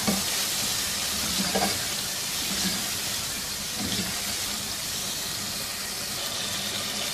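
Beef curry with fried potatoes being stirred in a pot, a steady sizzling frying hiss with a few soft scraping stirs, continuous and fairly close, no talking.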